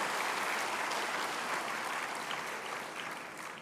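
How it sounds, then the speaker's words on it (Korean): Church congregation applauding a special music team at an evening summer camp service, a dense, even roar of clapping that gradually fades over several seconds. "여러분 다시 한번 우리 대형교회 특송팀 큰 박수로"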